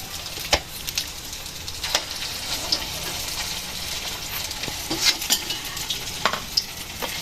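Homemade chicken balls frying in a pan of hot oil, a steady close sizzle with scattered crackles and pops and a few stirring scrapes, no voices.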